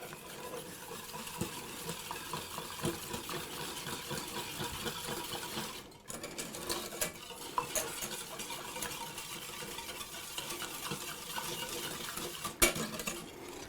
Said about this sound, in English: And then I have 1 teaspoon of lemon juice. Whisk that all together.